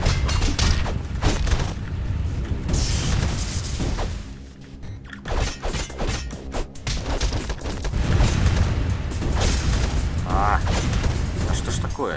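Enemies firing in the brawler video game Castle Crashers, a dense stream of booms, pops and crashing hits amid busy game sound effects, with someone talking over it.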